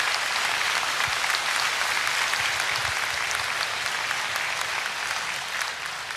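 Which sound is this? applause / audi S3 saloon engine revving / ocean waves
applause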